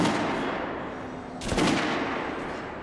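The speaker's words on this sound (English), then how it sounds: "Artyom, head over to my range and try out those guns." Gunfire at a shooting range in the video game Metro: Last Light Redux, heard as a dense, steady stream of loud shots followed by a single sharp, heavier blast partway through, with no talking.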